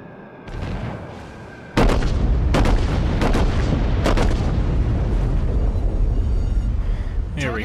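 Secondary guns on the USS New Mexico battleship fire in World of Warships, several loud, close booming bursts in quick succession over a continuous rumbling battle din, with a voice faintly under the opening.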